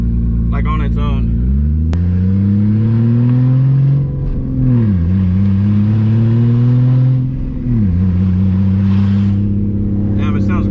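A Toyota Supra MKIV's engine revs through the gears while driving, a loud low drone climbing in pitch, dipping at each shift and climbing again, with brief voices heard at the start and end.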